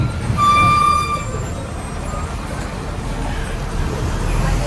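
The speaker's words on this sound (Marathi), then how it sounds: "ठाणा घोडबंदर ट्रॅफिक लागतेच इथे." Road traffic on Ghodbunder Road in Thane, a steady mid-level rumble of engines and tyres, with a vehicle horn tooting sharply near the start and a faint second honk shortly after, all close by.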